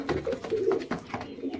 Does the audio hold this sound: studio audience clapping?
no